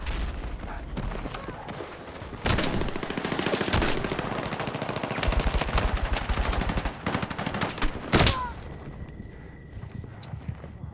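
NVO-228E gunfire in the shooter game Battlefield 6, bursts of rapid automatic shots close up amid battle noise, with a sharp heavy report near the end.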